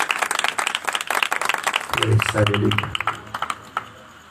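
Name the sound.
audience applause at a prayer meeting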